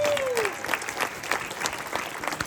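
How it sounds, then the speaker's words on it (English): Audience applause follows an introduction at a talk on international global entrepreneurs, a brief burst of many hands clapping with scattered sharp claps, fairly close and steady. "Give me a big round of applause."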